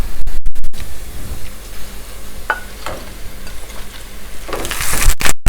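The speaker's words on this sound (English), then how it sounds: "So we're going to add our spinach now and allow everything to saute." Spinach sautéing in a pan for a spinach and cheese quiche, giving a steady soft sizzle with stirring and scraping, louder bursts near the start and end.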